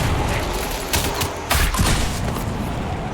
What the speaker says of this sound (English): We'll just fill that gap with bombs.